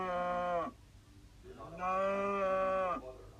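A Minecraft cow mooing twice, two long loud tonal moos close by, separated by a short gap.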